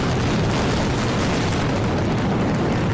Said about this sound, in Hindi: पहले इमारत के भीतरी हिस्से में एक धमाका हुआ, इसके बाद इमारत के दूसरे हिस्सों में जोरदार विस्फोट हुआ।